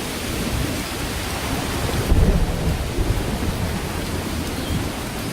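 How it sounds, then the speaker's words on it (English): Torrential monsoon rain pours as a dense, steady roar in a wildlife park, with a deep rumble of thunder swelling partway through and fading back into the downpour. "But July arrives, and with it, torrential rain."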